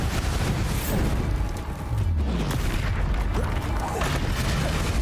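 A Bombarda blasting spell in Hogwarts Legacy erupts in a loud, continuous rumbling boom amid dense battle noise, close and sustained, with a voice calling out beneath it.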